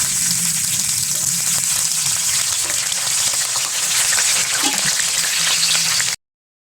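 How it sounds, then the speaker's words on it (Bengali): Loud, continuous sizzling of eggplant frying in hot oil in a pan, close and steady, with faint stirring underneath, ending abruptly. "গরম হলে বেগুনগুলো খুব সুন্দরভাবে একটু লালচে ভাব করে সমস্ত দিকটা ভেজে নিতে হবে"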